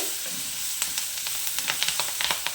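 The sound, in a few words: onions frying with curry leaves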